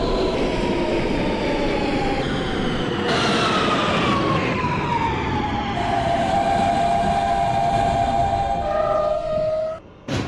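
An R160B Siemens subway train in the OpenBVE simulator runs on a T local line toward Chambers Street, its motor whine rising and sliding through pitch over a steady loud rumble of wheels on rail, with a brief drop at the end.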